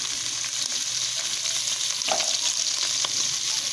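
Onion and a garlic clove fry in hot fat in a pan for a Maria Isabel rice-and-meat dish, producing a steady, dense sizzle with a few sharper pops, close and unbroken.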